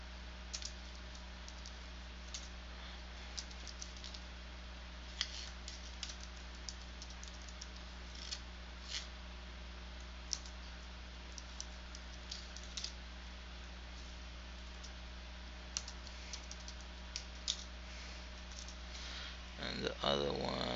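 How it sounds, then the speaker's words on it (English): Typing on a computer keyboard: soft, irregular key clicks tap away continuously over a steady low hum, with a brief flurry of busier keystrokes near the end. "So I'm a little bit clumsy when it comes to typing."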